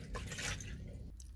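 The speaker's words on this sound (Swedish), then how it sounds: "då rinner ju det ut genom den här avtappningsslangen som jag gjort i ordning" Water runs out through a drain hose while a boat's cooling system is flushed during an impeller change, a short wet splashing and dripping gush at close range with no talk.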